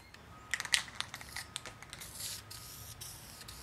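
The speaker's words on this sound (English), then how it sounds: "We'll come back in 10 minutes, put on another coat, see how it goes." An aerosol spray can hisses in short bursts as paint is applied to a heat shield from a 1990 Miata, with crisp close spritzes early on giving way to softer, fainter spray and light handling noise.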